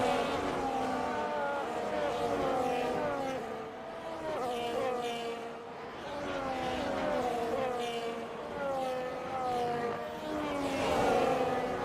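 Race cars in an F1 video game rolling around the Spa circuit on a formation lap, a steady layered engine drone with shifting pitch sweeps throughout, continuous and fairly loud.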